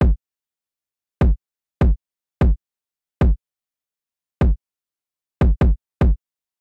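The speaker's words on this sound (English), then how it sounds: "So I just came up with this very simple kick pattern that kind of kept that bounce" Sparse UK drill kick drum pattern with nine deep, punchy kicks landing in a bouncy, syncopated rhythm, each hit boomy and decaying quickly into silence, played alone with no other instruments.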